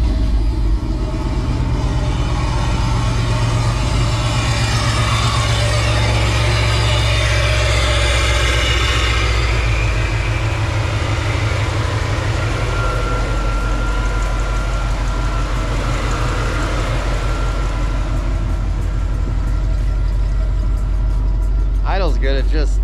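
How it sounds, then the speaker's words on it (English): A Chevrolet C10 truck engine with an oversized throttle body idles with a steady, loud, deep rumble throughout, close by, under a continuous wash of broadband noise. "With that throttle body, it idles good, it drives good."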